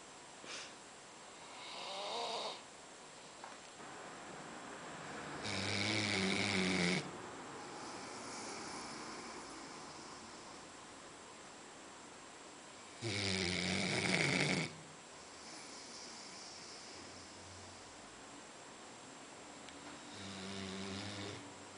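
A dog snores in broken bursts, with several loud rasping snores spaced out and quieter breathing between them, close to the microphone with no talk.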